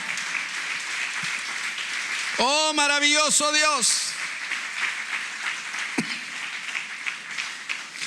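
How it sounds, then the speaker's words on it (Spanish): A church congregation claps in praise to the Lord, a steady crackle of many hands running throughout, while a voice rises in a sung exclamation over it midway. "Denle una ofrenda de palmas al Señor."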